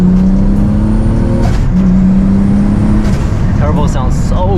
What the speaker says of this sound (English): Turbo sounds so good.